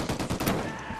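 Rapid burst of gunfire in the shooter Ghost Recon Wildlands, several close, loud shots packed into about a second with no talk over them.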